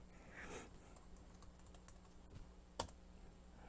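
Faint, sparse clicks of keys typed on a computer keyboard, a few soft taps and one sharper keystroke near the end, with no talking.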